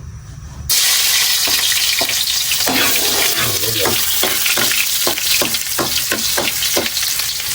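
Sliced ginger hits a hot frying pan already cooking onion, garlic and soy sauce for a chicken dish, bursting into a loud, steady sizzle after a short quiet start, with intermittent scraping stir sounds throughout.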